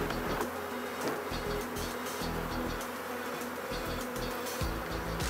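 A swarm of honey bees drones in a dense, continuous buzz during a hive inspection. The hum is close and steady, with individual bees whining past now and then.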